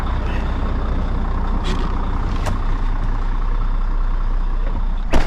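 A Volvo VNL semi truck idles as it warms up, a loud, steady diesel rumble that holds even throughout with a few brief hissing and clanking bursts and no talking.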